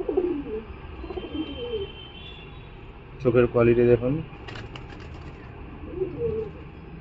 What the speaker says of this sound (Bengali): এটা একটা খতেন ম্যাড্রাস পায়রা